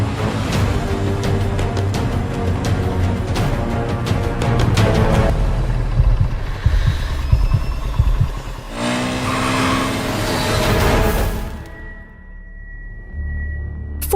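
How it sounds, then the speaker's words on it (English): A car roars up from behind during a chase in an audio drama, its engine surging loud and close over a dense bed of music and effects before cutting away abruptly. "a car came out of nowhere behind us"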